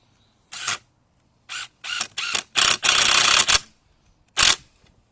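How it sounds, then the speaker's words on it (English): Finishing screws driven by a power driver into an 8-foot criss cross piece: a string of short, sharp whirring bursts, several in quick succession and one longer run, then a final burst, close and fairly loud with no talk. "And you're going to drive in your screws."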